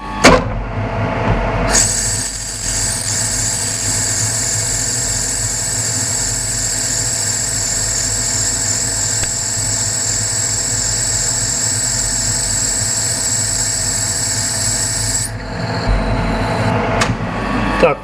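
Lathe turning the outer diameter of a K-750 motorcycle bushing, a steady close-up machining whine with a high tonal squeal, starting and stopping with brief clunks at each end.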